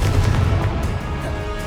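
A Confringo spell explosion in Hogwarts Legacy, a loud close boom with rumbling blasts that fade over a second or two, with no voice over it.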